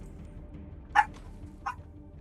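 Dogs barking indoors, two short, sharp yaps about half a second apart, faint against quiet background hum.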